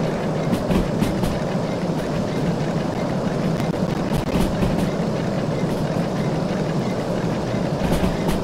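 A train in the Derail Valley railway simulator video game rolls along the rails under light braking, making a steady, loud, continuous rumble and wheel grind with faint rhythmic clicks, and no talking over it.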